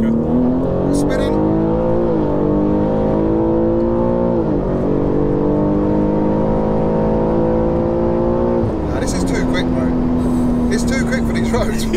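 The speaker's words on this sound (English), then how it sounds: "And it's time for a third gear pull" A tuned stage 2, 700 bhp BMW M3 G80 pulls hard through third gear; its loud cabin drone climbs steadily in pitch with brief dips at shifts, while voices talk excitedly over it.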